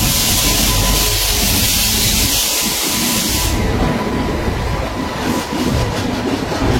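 The Kandari Express passenger train rumbling and clattering along the rails, a steady loud roar with rhythmic clanks, close by and continuous throughout.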